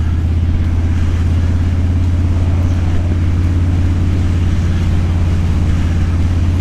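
A Harley-Davidson Street Bob motorcycle on its first ride of 2023 toward Port Stanley, Ontario, with a loud, steady low engine rumble and heavy wind roar close to the rider and no clear break for gear shifts.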